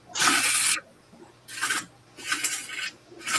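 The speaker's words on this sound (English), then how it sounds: "It's just that this new sandpaper is really thick." Heavy 50-grit sandpaper rasps against a wooden bowl on a lathe in three bursts: a long, loud stroke, then two shorter ones with brief pauses between them.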